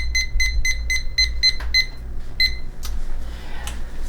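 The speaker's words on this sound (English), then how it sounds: "I'm gonna set the timer for about 10 minutes." Kitchen timer being set, a run of crisp high electronic beeps in a quick regular series as buttons are pressed, then a few scattered clicks and handling sounds, no speech.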